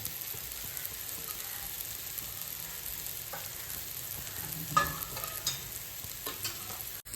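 Onion and tomato cook in a frying pan for a Bombay duck (bombil) burji breakfast dish, giving a steady, fairly quiet sizzle with a few louder stirring scrapes near the end.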